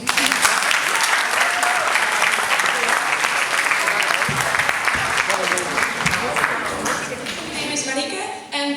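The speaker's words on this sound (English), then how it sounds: "let's give a big round of applause for Netherlands" Audience at a school exchange presentation breaks into a loud, steady round of applause lasting several seconds, dense continuous clapping that tapers slightly at the end.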